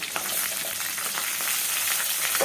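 Tomatoes going into a pan of frying shallots, garlic and green chillies for a fish curry, giving a steady close sizzle with soft crackles throughout.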